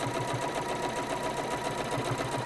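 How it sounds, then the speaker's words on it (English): Sewing machine stitching seams in a home workshop, a steady fast mechanical whirring and ticking rhythm running continuously at moderate level with no talk. "we can just sew that"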